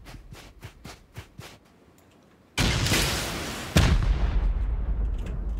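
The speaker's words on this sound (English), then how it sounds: "Oh man, he's rocketing." Rocket explosions pound a turret in a video game: two loud, booming blasts land a second apart and their rumble trails off, after a run of lighter rhythmic shots.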